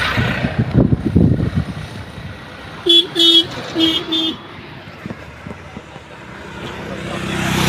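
A vehicle horn honks several times in short bursts on a highway, loud and close, after a passing engine rumble, with traffic noise continuing in the background.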